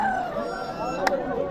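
A rooster crows once at a cockfighting ground in a Sundarbans village, a rising and falling call of about a second heard over faint outdoor background.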